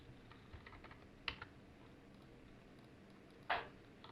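Key presses on a computer keyboard while entering a dimension value of 100 and Enter in CATIA V5 software: a few soft, faint clicks, then one sharper keystroke near the end, with no talking.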